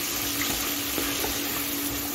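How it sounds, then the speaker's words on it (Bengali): Vegetables tossed with salt and turmeric in a pan over a medium gas flame give a steady soft sizzle with light stirring noise throughout and no talk. "এখন সব কিছু গ্যাসটাকে মিডিয়ামে রেখে সবজির সঙ্গে নুন হলুদটা মিশিয়ে নিচ্ছি"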